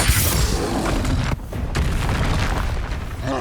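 Bombarda spell explosion in Hogwarts Legacy video game, a loud, close, heavy boom with a deep rumble, a brief gap of near silence, then a second rumbling blast tailing off.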